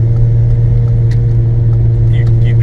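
Inside a BMW E36 fitted with a 2.8 M52 engine and a straight pipe, a deep, loud, steady engine drone fills the cabin as the car pulls hard, with voices talking over it.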